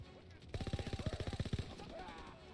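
Rapid automatic gunfire in Call of Duty: WWII, a burst of about a dozen evenly spaced shots lasting around a second, fairly faint and distant, followed by softer background game noise.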